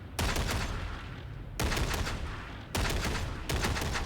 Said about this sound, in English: I'm not doing that burst fire. It's just set to burst fire.